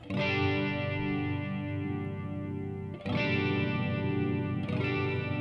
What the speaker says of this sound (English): adjusts the speed of the chorus effect by low frequency range.